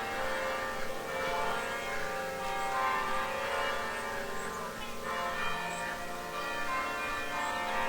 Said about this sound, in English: there was the most beautiful church bells I've probably ever heard